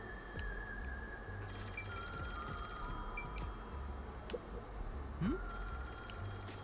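A telephone rings in the Master Detective Archives: Rain Code video game, repeated bell trills over quiet background game ambience, each ring burst lasting about a second with gaps in between.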